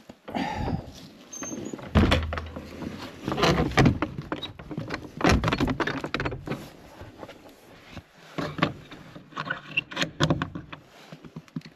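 A rustic wooden cabin door deep in the woods is shut up, heard as a long run of clunks, scrapes and handling knocks with some breathy movement and a few muffled voice sounds between them.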